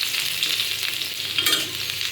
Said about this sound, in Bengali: শুকনো মরিচ দিয়ে দিচ্ছি বাগারে।